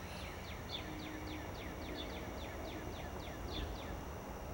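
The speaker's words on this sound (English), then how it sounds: "I can hear the birds in the trees. They're pretty loud." Birds in forest trees sing a rapid series of repeated high chirps, steady and fairly faint over a low background rumble from a road behind the woods.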